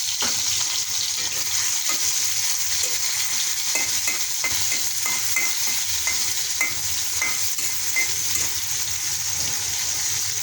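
Chopped garlic and onion hit hot oil in a wok, sizzling and spitting in a steady, loud frying hiss that carries on without a break.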